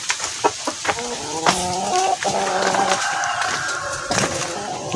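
Backyard chickens cluck in short, repeated bursts with a few sharper calls, fairly close over a busy, noisy outdoor background.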